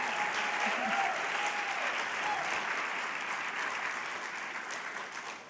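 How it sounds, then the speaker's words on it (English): Sustained applause from a large audience, a dense steady wash of clapping that holds loud for several seconds and tapers slightly at the end. "And now we can clap."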